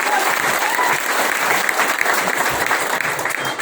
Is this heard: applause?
yes